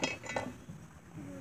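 A plate is handled among kitchen items, giving a few light clinks of dishes and cutlery early on, followed by soft handling noises, all fairly faint and close with no talk.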